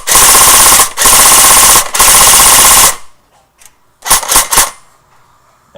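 Echo 1 RedStar Wolverine airsoft gun firing full auto: three loud sustained bursts of rapid shots separated by short gaps, then a quieter cluster of brief mechanical clicks and a few more quick shots.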